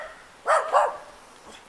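A dog gives two quick barks close by, then falls quiet, with a faint sound at the very end.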